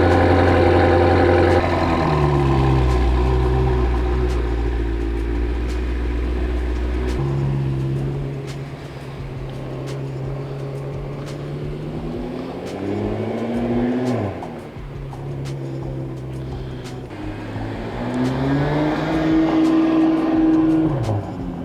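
A BMW M6 engine with stock exhaust rumbles steadily at a low idle, then revs up and down in several deep swells, loud and close.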